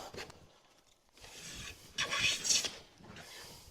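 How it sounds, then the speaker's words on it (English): A wooden hand plane cuts full-width shavings from a wooden board in a few short rasping strokes, each a close, dry scrape with brief pauses between them. "So they're getting full width planed shavings."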